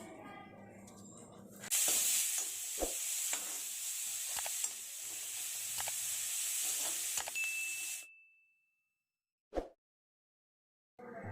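Onions sautéing in a pan for Tamil beetroot poriyal, a steady close sizzle with stirring scrapes running about six seconds, then stopping into near silence with one brief knock.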